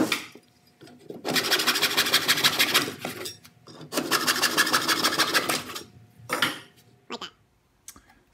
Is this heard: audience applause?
no